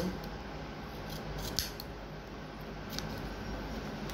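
Scissors cut through trouser fabric close to a zigzag stitch, giving soft snipping crunches with a couple of sharper clicks over a steady hiss, quiet and close, with no talking.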